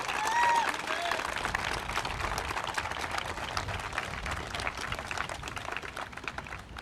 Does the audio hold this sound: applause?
yes